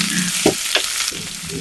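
Cut okra fries in hot oil with a loud, constant sizzle, broken by a couple of brief stirring scrapes close by.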